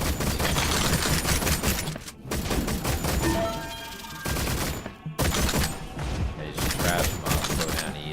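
Video game turrets fire in sustained, loud, rapid bursts, with dense overlapping shots and a few brief pauses between volleys and no talking.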